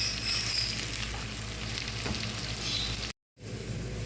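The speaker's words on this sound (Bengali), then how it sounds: "এখন পেঁয়াজটা বাদামি করে ভেজে নেব" Salted onions fry until brown with a constant, close sizzle and faint stirring, broken by a brief silent gap near the end.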